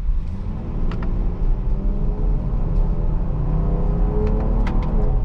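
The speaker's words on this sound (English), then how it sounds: "Let's just do a little hard accelerate" A Jeep Grand Cherokee L Overland SUV's engine pulls hard under acceleration, a loud, continuous rumbling roar heard from inside the vehicle.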